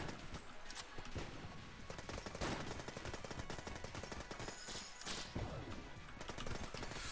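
Rapid, continuous gunfire from Enter the Gungeon, a bullet-hell game, forms a dense, loud stream of shots blended with game effects and crashes, steady for the whole stretch without talk.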